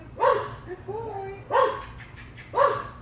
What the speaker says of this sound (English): if you have a dog that barks like that